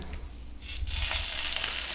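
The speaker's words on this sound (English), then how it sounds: "As you can hear, it's sizzling." Chicken breast hits a hot pan and breaks into a close, steady crackling sizzle that holds without letting up.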